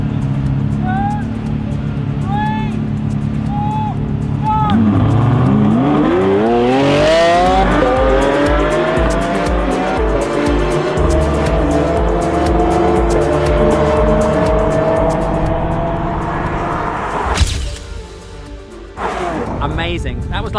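A Ferrari 812 Superfast drag races a four-wheel-drive Lamborghini: loud engines rev and rise through gear changes with tire squeal, sustained close and roaring, then cut off abruptly near the end.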